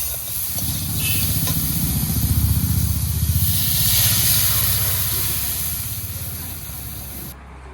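Water poured into a hot pan of frying shrimp, bursting into a loud, close, sustained hiss and sizzle that swells for several seconds and then slowly eases.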